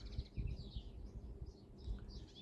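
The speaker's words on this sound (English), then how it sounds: "You can hear the birds singing in the background." Faint high chirps and tweets of birds scattered through the clip in a back garden over a low rumbling background, no voices.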